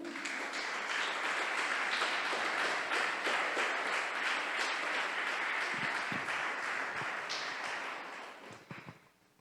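A church congregation applauds in a dense, continuous wash of clapping that holds steady for several seconds, then thins into scattered claps and fades near the end.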